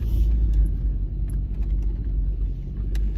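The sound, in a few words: car pulling forward and driving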